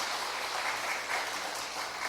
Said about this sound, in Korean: 박수로 한번 환영해 주십시오